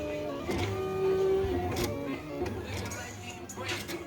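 A vinyl cutter slices livery shapes from vinyl sheet, whirring and buzzing in short motor runs close by, with a steady tone early on and no talking.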